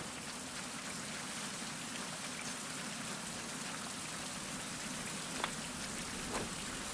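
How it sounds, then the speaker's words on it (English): Steady rain falling in a survival crafting video game, an even hiss of drops that holds alone at moderate level throughout. "While it's raining."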